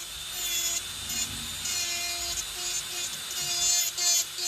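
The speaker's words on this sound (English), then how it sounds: "I'm keeping my e-file flat, level at all times." An electric nail file drill whines at a steady high pitch while debulking fingernails, its tone dipping and rising as the bit meets the nail surface, close and fairly loud with no talk.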